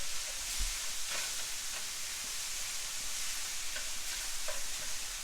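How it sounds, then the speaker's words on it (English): Onions and ground beef fry in a pan, giving a steady, close sizzle with occasional scraping and stirring sounds throughout and no talking. "And I am going to cook this until there's a good mix and the beef is brown."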